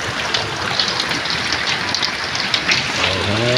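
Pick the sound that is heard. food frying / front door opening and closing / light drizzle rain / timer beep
light drizzle rain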